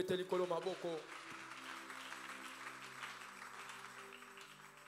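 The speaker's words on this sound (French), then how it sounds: "On acclame pour le Seigneur." A church congregation applauds and cheers, with a sustained wash of clapping and crowd noise under held musical tones, following a brief loud voice at the start.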